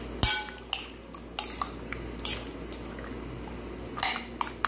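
A spoon stirs a low-carb coffee jelly mixture in a bowl, giving irregular clinks and scrapes against the bowl with soft wet squishing between them, close and fairly quiet.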